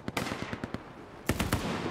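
Rapid bursts of gunfire in an online shooter game with tanks and respawns: a quick volley of sharp shots, a pause, then another louder cluster of bangs, fairly close and loud.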